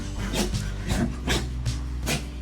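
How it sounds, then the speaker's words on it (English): Dogs pant and whimper close by in a rhythmic series of breathy huffs and soft yips, with no talking. "The dogs are here."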